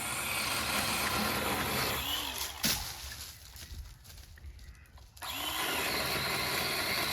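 A battery-powered pole saw cuts through a tree branch overhead, running with a steady whining buzz that drops away for a few seconds mid-cut before resuming at full level.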